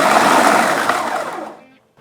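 A food processor with its lid locked pulses stuffing dry mix and two cups of homemade toasted breadcrumbs, a loud, steady whirring grind that runs close for about one and a half seconds before cutting off into quiet.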